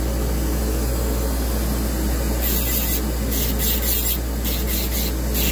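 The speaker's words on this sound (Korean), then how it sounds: "지금 이렇게 러프하게 휠로 다듬는데" Rotary dental wheel roughly trimming a tooth's length, a loud, steady grinding hiss with a constant low motor hum and bursts of brighter abrasive scraping in the second half, no talk.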